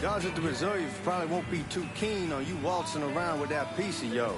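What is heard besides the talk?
No everyday noise stands out behind the speech.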